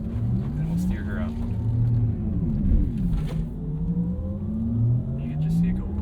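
A 2023 Porsche Taycan Turbo electric car maneuvers on the Porsche Experience Center Los Angeles track, its low motor whine rising and falling in pitch beneath a steady rumble while people talk inside the cabin.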